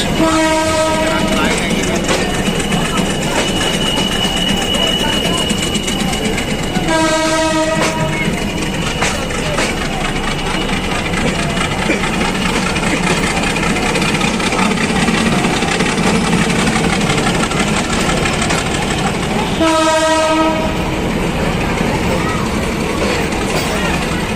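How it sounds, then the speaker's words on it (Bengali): A Narayanganj commuter train arriving at Narayanganj station, its loud continuous rumble and rattling wheels broken by three long blasts of the train horn, with a voice talking over it. "ট্রেনটি এখন তার যাত্রা শেষ করলো"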